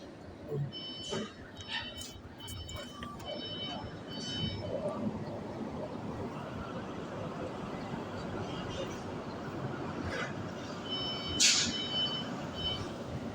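Rhythmic high reversing beeps sound in short bursts from a 40-foot truck backing up for unloading, over a steady rumble of engines and yard noise, with faint people talking in the background.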